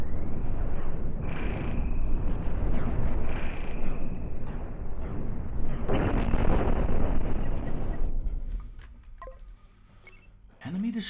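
Explosions and crashing debris as a spaceship is blown apart in the space combat game Cosmoteer, a run of dense, rumbling blasts that fade after about eight seconds, followed by quieter game sounds and a voice near the end.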